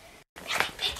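A small dog whimpers and lets out short yips and barks close by after a brief silent gap, the sounds rising in a couple of bursts.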